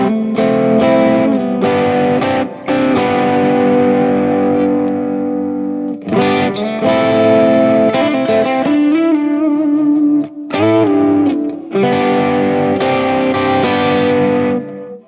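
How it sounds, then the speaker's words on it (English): Distorted electric guitar played through a free amp simulator with gated reverb, loud chords and riffs in several phrases whose reverb tails cut off sharply between bursts. "So let's check out the gated reverb."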